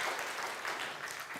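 A church congregation applauds together during a Sunday worship service, a dense, steady burst of many hands clapping at once, with no talk over it.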